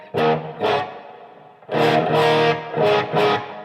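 Electric guitar played through a Mad Professor pedal with spring reverb, sounding as two strummed bursts, a pause, then a longer run of ringing, distorted chords with a washy reverb tail.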